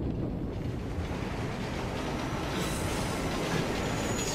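A train passes close by in the video game Assassin's Creed Unity, a loud steady rumble of wheels on rails with squealing metal and rhythmic clatter growing brighter partway through.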